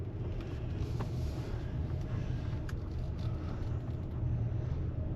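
A car rolls along a road near a dam and campground, its low engine and tire rumble steady and close throughout, with no talking.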